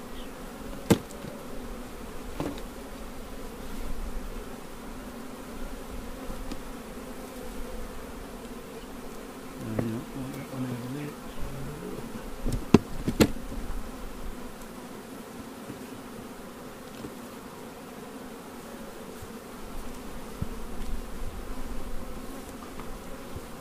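Honeybees hum in a steady, close swarm drone at a hive being prepared for queen raising, with occasional louder buzzes of individual bees passing near.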